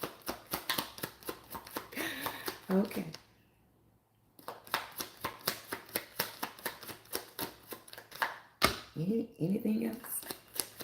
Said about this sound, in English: Somebody say one more shuffle.